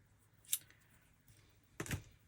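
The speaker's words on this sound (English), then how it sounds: "I'm just going to trim that edge because I don't want that showing" Scissors trim a paper edge in a tab bound crafting journal with two quiet, crisp snips about a second and a half apart, close by and alone.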